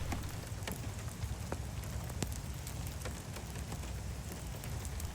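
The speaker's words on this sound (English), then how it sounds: "We just got a little rain going on here." Rain falls in a redwood forest, a steady close patter with scattered sharp drips and drops hitting leaves and surfaces, continuous and even with no voices.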